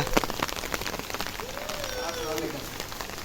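Steady rain patters on a rooftop garden with scattered drops, while a voice speaks over it.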